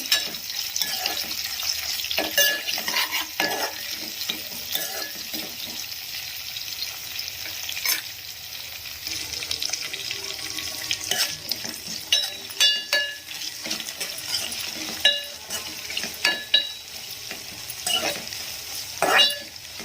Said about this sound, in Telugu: పొడుగ్గా సిలికల్లా చేసుకున్న పచ్చిమిర్చి ఇవి పచ్చివాసన పోయేంత వరకు ఫ్రై చేసుకున్నాము